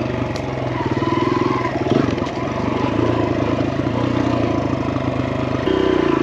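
A Kawasaki KLX dirt bike riding over a rocky trail, its engine a steady close drone with a brief rev change near the end, with rattling and clatter from the terrain.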